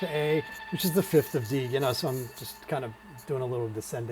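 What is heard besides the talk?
No everyday noises stand out.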